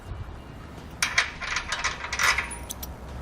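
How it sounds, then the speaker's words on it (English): A flat washer being fitted onto a bolt during a base plate kit install, with small metallic clicks and rattling close by, brief and moderately loud against a quiet background. "Now on the other side, we're going to put on a flat washer"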